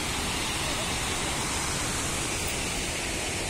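Loud mountain waterfalls and rushing water from a forest river, heard as a dense, unbroken roar that fills the whole scene without pause.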